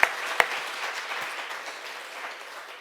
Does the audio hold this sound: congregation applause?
yes